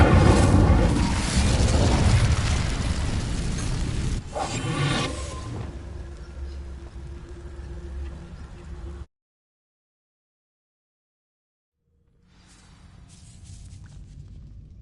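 Incendio fire spell bursting into flame across dry vines in Hogwarts Legacy, a loud whooshing burst with crackling that fades, then a brief silence before quieter ambient sound resumes.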